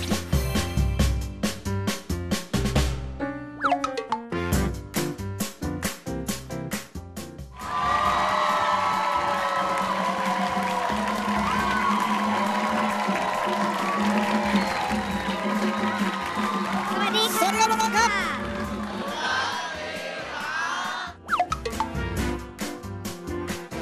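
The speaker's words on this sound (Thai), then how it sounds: "เสียงปรบมือดังๆนะคะ" A loud burst of studio audience applause and cheering with shouts and whoops on a Thai TV show, framed by bursts of music before and after.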